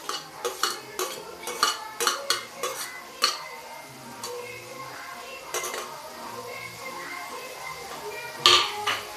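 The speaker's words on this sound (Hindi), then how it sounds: "अब देखिए अब हम क्या डालेंगे, डाल देते हैं टमाटर।" Tomatoes go into a cooking pan of simmering chana nimona and are stirred, with a series of metallic scrapes and clinks of a spoon against the pan over a faint sizzle, followed by quieter stirring and one sharp clink near the end.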